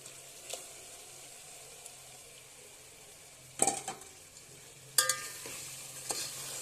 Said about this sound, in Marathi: हे तेलामध्ये चांगले भाजून घेऊया चिकन